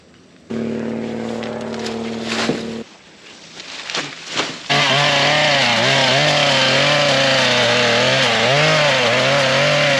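A chainsaw idles, revs and then roars loudly at full throttle, its buzzing pitch wavering as it bites through corn stalks.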